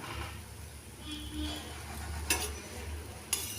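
A thin potato paratha cooks on a hot pan with a little oil drizzled around it, making a quiet, steady sizzle with a couple of faint clinks.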